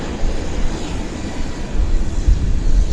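A Cargojet cargo plane landing at Vancouver Airport, heard as a steady, heavy low rumble of jet engines and rolling noise that swells toward the end, with no voices.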